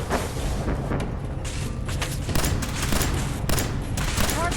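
Dense gunfire and booming blasts in the video game Fallout 4, with loud overlapping bursts of shots and explosions rolling on without pause.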